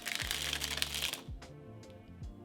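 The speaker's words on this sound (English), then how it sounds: "And now we let the cards fall." Playing cards fall and riffle down after a cardistry cascade, a brief dense flutter of paper slapping followed by a few lighter card taps, close and quiet.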